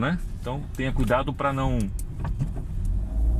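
Car traffic runs through Porto's city centre on a Sunday, a steady low hum of engines beneath someone speaking close by.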